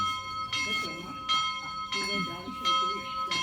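Church bells ring in a steady, repeating pattern of resonant strikes, with several clear peals sounding moderately close over a faint background murmur.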